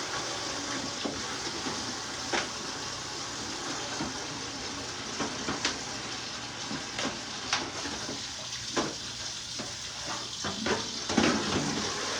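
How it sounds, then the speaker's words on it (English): Water runs steadily from a tap into a cooking pot as it is rinsed out in a home kitchen, a constant splashing hiss with occasional clanks and knocks against the pot. "Now I'm gonna rinse it back off because the meat going in here."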